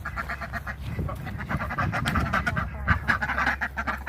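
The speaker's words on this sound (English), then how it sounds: "This is the ducks." Several farmyard ducks quack in rapid, overlapping bursts close by, a busy chattering flock with a low background rumble.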